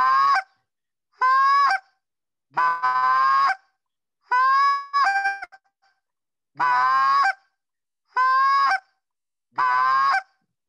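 A short reed goose call sounds in a series of short, loud, raspy honking bursts, about eight in all with brief silences between them, close and clear.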